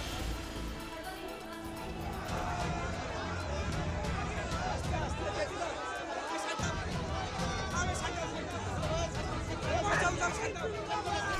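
Crowd babble of many voices gathering near a mosque plot in Murshidabad, a steady dense murmur of chatter throughout with scattered nearer voices.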